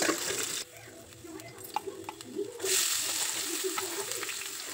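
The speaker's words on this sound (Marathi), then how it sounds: "आतां हांव हांगा कांदो घालता आसा कांदो तांबडे जाव तांकां हगूर भाजून घेया" Chopped onions sizzle and fry in a pan for a Konkani-style fish curry, a steady broadband hiss with a few soft clicks of stirring, the sizzle swelling louder near the end.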